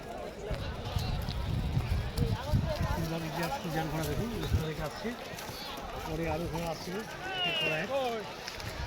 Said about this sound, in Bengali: পদুয়ার ইছার ঘোড়া দেখতে পাচ্ছ নিশানা দেখিয়ে আসছে একের পর এক